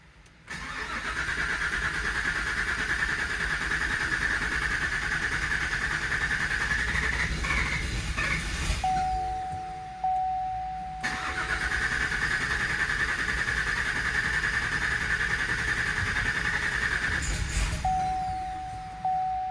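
A Cadillac Escalade with an LT4 engine swap and new fuel pumps cranks loudly and close in two long, steady starter bursts. Each burst ends in a pause, and a steady warning chime sounds between the attempts.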